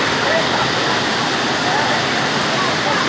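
Floodwater from an overflowing river after heavy rain rushes in a loud, steady, continuous roar, close by and unbroken throughout.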